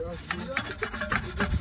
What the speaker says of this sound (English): doing a nice wheel clean